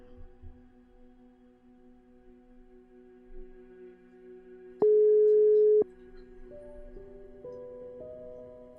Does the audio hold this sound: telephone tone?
yes